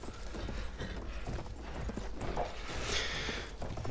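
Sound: horse hooves clip-clop in video game Battlefield 1

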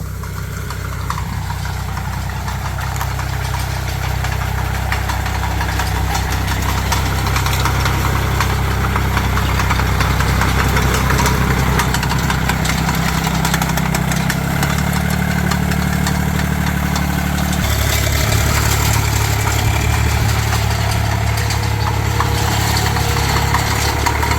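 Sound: pesticide sprayer truck engine running during system test

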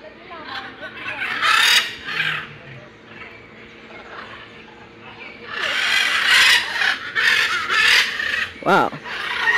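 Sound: blue and gold macaw calling loudly

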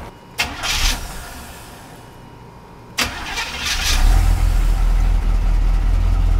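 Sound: lowrider car engine starting and revving

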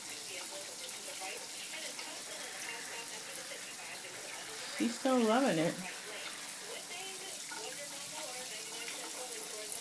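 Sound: shower water running while bathing a baby

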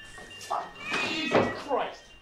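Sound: cat meowing

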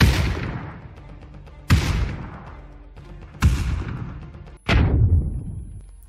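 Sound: explosions and gunfire in the video game PUBG

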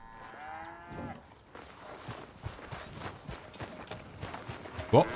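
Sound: cow mooing in a video game

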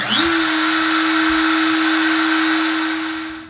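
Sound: Millright CNC router spindle running

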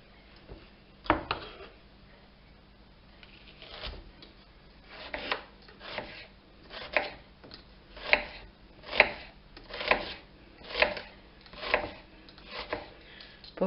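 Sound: chopping onion with a knife

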